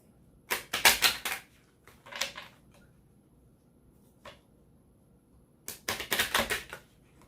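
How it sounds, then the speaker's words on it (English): Three bursts of crisp tarot card riffling and flicking, a long one, a short one, then another long one, with a faint tap between and no talking. "I like shuffling the cards on camera"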